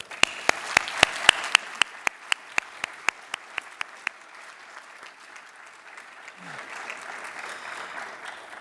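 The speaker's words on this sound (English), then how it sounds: "So let's give her a round of applause." An audience at an academic conference awards session applauds a prize winner. Brisk, loud claps ring out at first, then thin into softer scattered clapping that fades toward the end.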